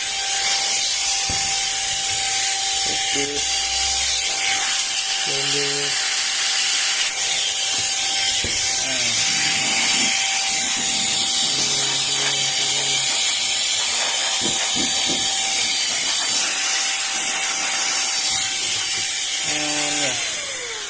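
A Zola cordless air duster blows dust out of a desktop PC, giving a loud, steady, close-up rushing hiss that runs without a break for the whole stretch, with small clicks and knocks mixed in.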